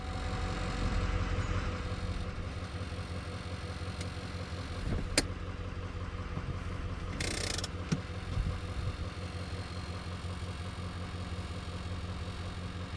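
A GMC Sierra 2500 HD truck idles with a steady low engine hum, broken by a couple of sharp clicks and a brief mechanical whir as it is shifted into drive.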